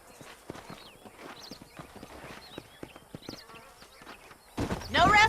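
Steady horse hooves clip-clopping in a rhythmic trot in the video game Red Dead Redemption 2, with a few voices talking over them and a louder whinny or burst near the end.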